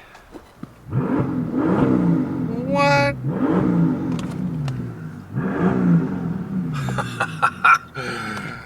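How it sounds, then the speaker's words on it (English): A Mercedes S65 AMG Coupe's V12 twin-turbo engine revs up repeatedly in rising bursts, close and loud, with a brief high whine and clicks between revs and a short spoken word. "This car just sounds angry."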